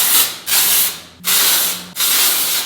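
Three long hissing blasts from an aerosol makeup texture spray, each sustained for about a second with short gaps between, loud and close.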